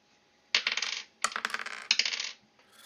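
Three quick bursts of dice rattling and clattering across a table for damage in a tabletop role-playing game, each lasting about half a second, close and crisp.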